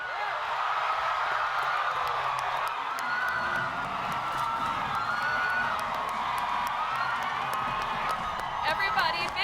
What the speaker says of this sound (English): Everybody, big round of applause to the Eternals.